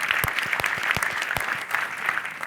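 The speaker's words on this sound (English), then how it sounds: "So like one more round of applause to all of you." Applause from an evening gathering of ultra-endurance bikepacking race riders, close and steady with several louder individual claps standing out through the whole stretch.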